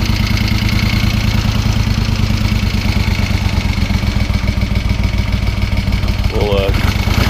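A 1973 Moto Guzzi motorcycle on choke, cold-starting and then running steadily, a loud continuous engine drone with a rapid pulsing beat throughout.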